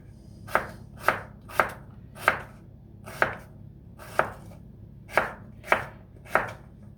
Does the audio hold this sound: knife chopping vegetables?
yes